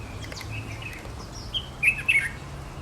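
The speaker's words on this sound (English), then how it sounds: "Such a pretty bird over there." Chirps from a small bird about four inches long, a grass-seed eater of moist habitats near dwellings in Nairobi. A few brief, bright calls rise late over a steady low outdoor hum, moderately close.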